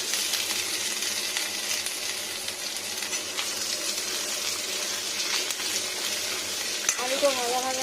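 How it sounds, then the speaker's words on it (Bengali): Potatoes fry with cumin seeds in oil, a steady soft sizzle with occasional clinks of a utensil against the pan, fairly quiet and continuous. "আলুটা ভাজা ভাজা হবে"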